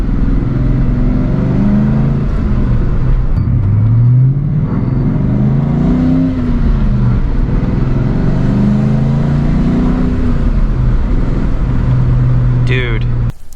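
Engine of a Mustang Cobra fitted with a Flowmaster 40 series exhaust, a loud steady low rumble with swelling revs rising and falling through the run, close by, with people talking over it.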